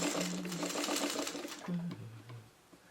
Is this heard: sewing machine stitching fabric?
yes